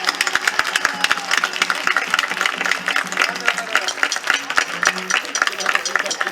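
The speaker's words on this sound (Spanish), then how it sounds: "Un aplauso para la madre del Alfón, por favor" Outdoor carnival crowd in a town square in Estepona claps for a chirigota group. Scattered, fairly loud applause runs throughout over a busy murmur of voices and a low hum.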